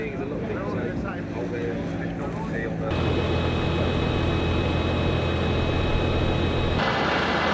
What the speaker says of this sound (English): Don't sound any different to a standard diesel engine, does it? But that is the methane tractor.